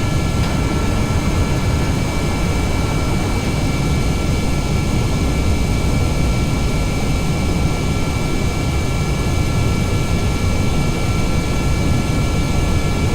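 A steady, loud aircraft engine roar holds constant as a plane rolls off the runway in Kerbal Space Program, continuous and unbroken with no talking.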